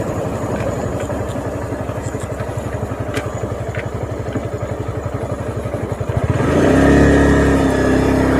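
A motorcycle engine chugs steadily at close range while riding along a canal-side road, a rapid rhythmic putter that swells into a louder, rougher roar near the end as it revs.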